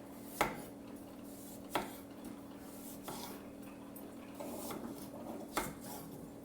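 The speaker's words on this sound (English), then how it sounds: "I'm going to cut at a diagonal here" Potatoes being sliced diagonally with a knife on a board, four or five sharp distinct cuts spaced about a second apart, close and fairly quiet.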